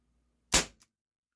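A single sharp snap from a Beretta PX4 or SIG Sauer P226 CO2 air pistol with blowback, one crisp close crack with a tiny click right after, alone in silence.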